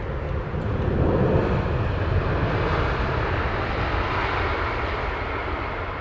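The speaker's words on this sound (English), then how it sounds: "British Airways Dreamliner." A British Airways Dreamliner airliner arriving at Heathrow Airport in the evening gives a steady, broad engine roar close by that swells slightly and holds for several seconds, with no voices.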